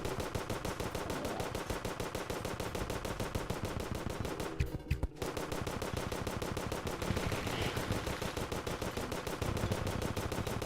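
Rapid continuous gunfire from a weapon in the video game Terraria, a fast even stream of loud shots running almost unbroken for the whole stretch with a brief gap midway, no voices.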